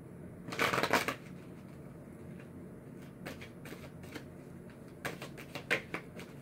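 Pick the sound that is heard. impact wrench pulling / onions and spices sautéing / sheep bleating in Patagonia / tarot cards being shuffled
tarot cards being shuffled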